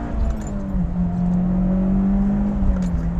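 A Mitsubishi Evo X is driven hard on a wet, slippery road with snow around, its engine holding a steady, droning note close by, with tyre and road noise and a faint rattle layered underneath.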